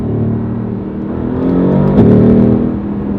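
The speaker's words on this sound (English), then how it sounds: "The downshift is just fantastic." A Mercedes-AMG GT R sports car engine roars loud and close, its steady growl swelling and blipping briefly as it downshifts, with no talk over it.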